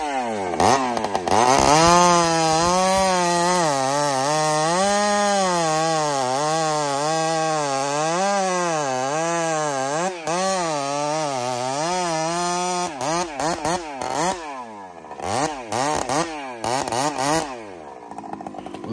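A Husqvarna 572 XPG chainsaw cuts through big wood, its engine screaming loud and close with a wavering, sustained pitch under load before it drops back and revs in short bursts near the end.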